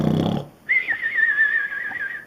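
A voice imitates elephants snoring in an animated children's story, a thin wavering whistle-like snore held steadily for more than a second after a short burst of other sound.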